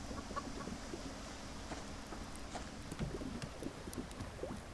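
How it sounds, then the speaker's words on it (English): A level 1 chicken in the survival game Subsistence clucks softly in scattered short calls, faint beneath a steady wash of ambient outdoor noise, with occasional light taps and footstep-like clops. "We've got our level 1 chicken there."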